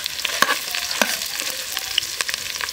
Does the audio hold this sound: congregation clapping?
no